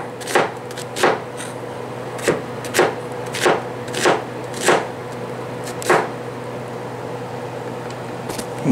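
A knife chopping red bell pepper into small cubes on a board makes about ten crisp, close knocks in an uneven rhythm that thins out toward the end, with no talking.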